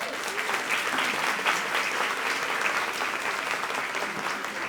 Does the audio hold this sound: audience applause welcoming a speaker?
yes